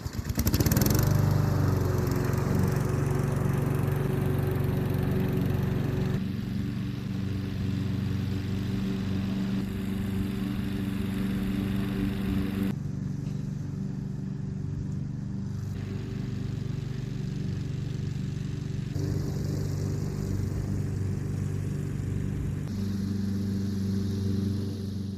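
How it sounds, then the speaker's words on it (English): A lawn mower's steady mid-pitched engine drones through a park mowing pass, holding loud and constant throughout with slight shifts in tone as the load changes; no one speaks. "I'm going to get in a quick mow out here"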